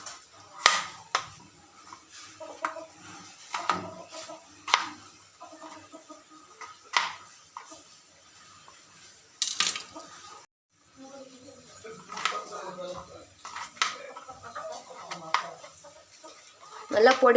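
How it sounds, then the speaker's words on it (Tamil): A knife chops washed potatoes into small pieces on a board, with irregular sharp chops separated by brief quiet gaps. "இதை இனி சின்ன சின்னதாக கட் பண்ணணும்."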